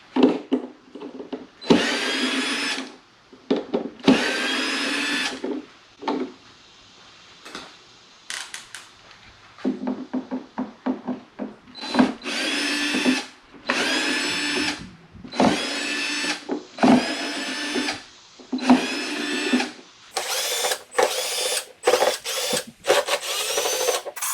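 A power driver backs screws out of the wireless charger tray on a 2021 Toyota Tundra, whirring in repeated short bursts of a second or two, loud and close, separated by pauses and small plastic clicks.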